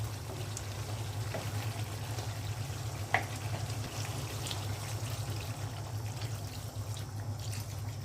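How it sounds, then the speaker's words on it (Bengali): Water is poured into a pan of beef and new potato curry with green chilies after the meat and potatoes have been browned, giving a steady, close trickling pour over a low background hum, with no talk. "এখন পানি দিয়ে দিব।"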